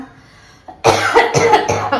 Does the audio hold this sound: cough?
yes